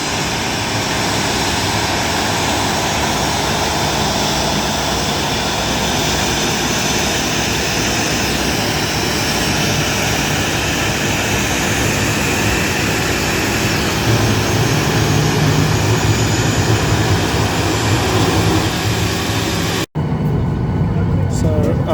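A Ryanair Boeing 737-800 rolls out after touchdown at Paris Beauvais, with loud, constant engine and cabin roar heard from inside. A low rumble swells toward the end before the sound abruptly drops away.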